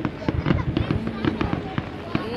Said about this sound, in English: You see where the fireworks are coming from?